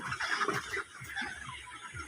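Chickens cluck and chatter in a steady, busy flock sound, close by with no talking.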